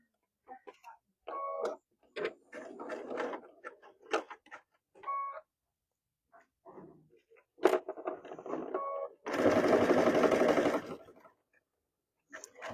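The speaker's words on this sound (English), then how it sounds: "I'm just going to re-sew what I just did a few seconds ago" Home sewing machine stitching around an oval fabric tray in short repeated bursts, the longest and loudest near the end, separated by pauses and light handling noises.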